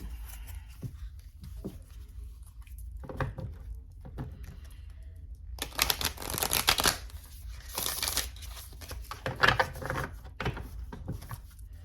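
Tarot cards being shuffled by hand, a soft papery riffling and patter in bursts, loudest in the middle stretch, with quieter handling clicks before and after and no talking.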